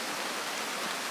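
Steady rain falls while people shelter under a building with corridors leading down, a dense even hiss with no pauses and no voices.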